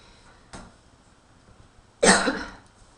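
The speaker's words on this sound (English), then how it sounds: "I apologize for the cough" A lecturer coughs during a math lesson: one brief, faint cough, then a loud, harsh cough about a second and a half later. Quiet room tone sits between them.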